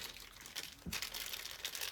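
A greasy plastic bag is worked open while a Prusa MK4 3D printer's Y carriage and bearings are assembled, giving soft, quiet crinkling with one brief, sharper rustle partway through.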